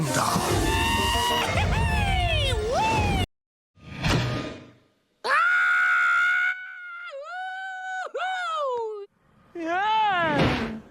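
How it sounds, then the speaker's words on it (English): Cartoon promo effect from Futurama of Fry shooting out of a transport tube and smacking into a wall, with shouted vocal cries, a whooshing thud and wailing tones in separate bursts. "As is the sound he makes when he hits the wall when he comes flying out of the transport tube."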